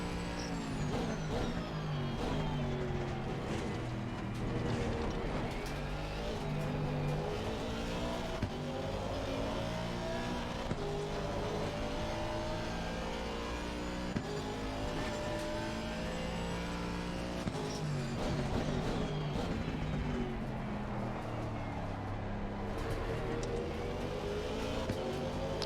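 A race car engine in Assetto Corsa Competizione revs continuously, rising and falling through gear changes as it brakes and accelerates through corners, loud and steady without pause and with no speech over it.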